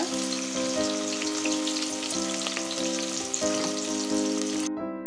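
Chopped onions sizzle and crackle steadily in hot oil for a lamb trotters gravy, a close, continuous frying hiss with a low hum underneath.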